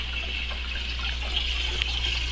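Water drains out of a tank through a wide-open valve, a steady hissing, trickling rush heard close and alone, with a faint clink near the end.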